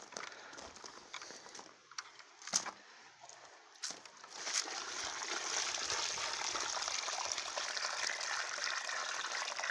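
Collected rainwater poured steadily into a container, a soft trickle at first that builds into a continuous, even splashing flow for the second half, close by with no talking.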